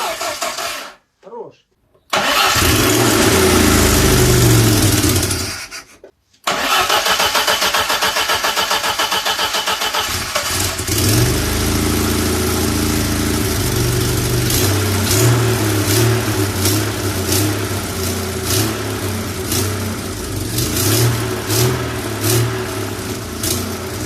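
A VAZ 2105 car with a replaced engine cranks a few times, catches, and roars up loudly before settling into a steady, rough idle with occasional revs.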